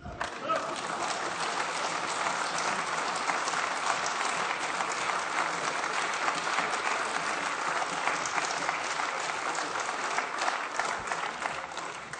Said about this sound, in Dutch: het is wel de gewoonte bij het eerste optreden van een nieuwe minister dat iedereen klapt natuurlijk